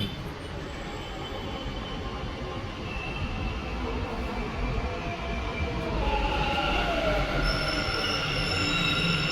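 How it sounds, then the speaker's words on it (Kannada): A Bangalore Namma Metro purple line train pulls into Swami Vivekananda Road station, its wheels rumbling steadily and then squealing in rising, shrill tones as it draws near. "ನಮ್ಮ ಮೆಟ್ರೋ ಅಲ್ಲಿ ಬರ್ತಾ ಇದೆ"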